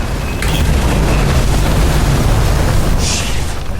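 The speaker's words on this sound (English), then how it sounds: "The fuses just blew." Fuses blow in the video game Nobody Wants To Die: a loud, sustained rumbling burst, heavy and dense throughout, with a brighter crackle flaring near the end.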